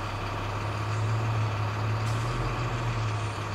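A Class A truck's engine revs steadily with both parking brakes set, a loud, continuous low rumble that holds for several seconds without any talking.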